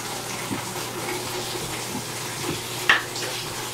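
Water pours steadily into a washing machine tub, a continuous rushing, splashing flow heard close up without a break, with no talking.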